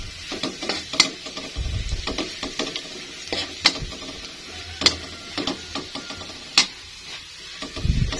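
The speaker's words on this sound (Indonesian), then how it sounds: "Tumis bawang putihnya sampai agak kecoklatan." Garlic sautéing in a pan until lightly browned for stir-fried green beans, a soft sizzle under scattered clicks and scrapes of a utensil stirring against the pan, with no talk.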